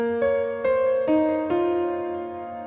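Piano notes struck one after another in a rising arpeggio for a dark, emotional beat, four staggered onsets each ringing on and sustaining into the next, clear and close with no talking.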